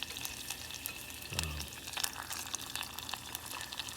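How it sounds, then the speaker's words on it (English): Potatoes fry in hot oil in a pan, a faint, steady crackling sizzle with a brief louder clatter near the middle. "as you can hear, they're starting to sizzle already."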